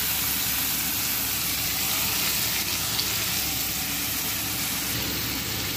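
Chopped tomato added to browned potatoes frying in a pan, a steady loud hiss and crackle of sizzling oil that holds evenly throughout with no voices.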